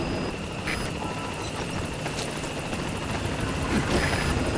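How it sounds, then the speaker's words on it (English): A video game support helicopter's rotor thrums loudly and continuously, close overhead, with engine whine underneath, in Metal Gear Solid V. "Support helicopter has arrived."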